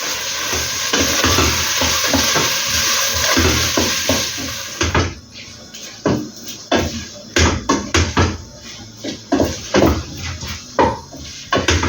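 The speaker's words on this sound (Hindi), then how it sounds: "यहाँ लैम मीट है जिसको हम थोड़ा ब्राउन कर लेंगे।" Lamb meat browning in a pan for palak gosht sizzles at first. It gives way to repeated sharp scraping and stirring clacks of a utensil against the pan.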